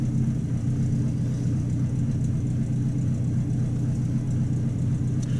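On a cold day around 36 degrees, a Buick Roadmaster engine with a carbureted automatic choke idles with a steady, loud, low rumble and whir that stays constant throughout with no talk.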